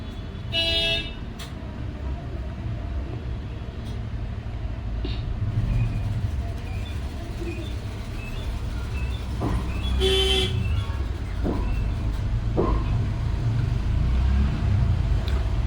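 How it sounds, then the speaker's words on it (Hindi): Road traffic passing beside a house, a steady low rumble of vehicles with a couple of horn toots cutting through, continuous and fairly close. "मेरा घर रोड की साइड पे है, तो सारी गाड़ियाँ मेरे घर के इधर से ही निकल रही है, तो बहुत ज़्यादा शोर आ रहा होगा"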